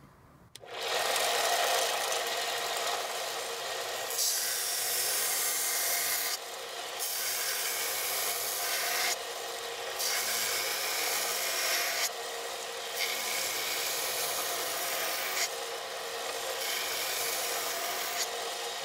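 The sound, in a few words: belt grinder with 80 grit belt grinding a knife blade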